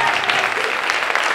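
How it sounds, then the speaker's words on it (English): Short burst of dense audience applause during a school visioning day event, loud and continuous from a crowd of many people clapping together. "We'll clap for that."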